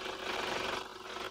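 A Toyota Land Cruiser 2025 with a 2.8-litre inline four-cylinder diesel runs in a steady, fairly loud clatter, heard close up with no talk.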